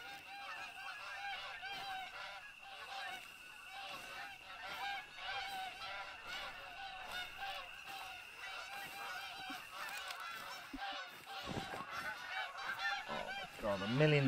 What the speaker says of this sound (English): a million billion geese. They're so high up! How are you that loud?